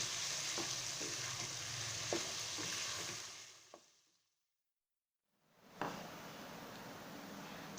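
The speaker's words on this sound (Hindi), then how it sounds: "1 से 2 मिनट मैं इन मसालों को भूनूंगी साथ में" Spices roasting in a pan for mutton achari gosht sizzle steadily with occasional stirring knocks, cut off completely for a moment before the frying hiss returns.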